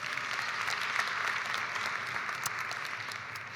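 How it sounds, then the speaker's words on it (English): Conference audience applauding steadily at a moderate distance, a dense even patter of clapping lasting a few seconds, fairly soft with no voices over it. "Please give them a very warm round of applause."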